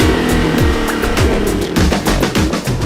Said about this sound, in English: The team pushes the engine to redline, individually testing each Viper engine, ensuring it's ready for maximum output.